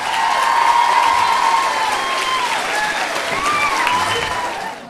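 A carnival crowd at Casa do Benfica in San José applauds and cheers, loud continuous clapping mixed with whoops and high shouts, some from children, holding steady throughout.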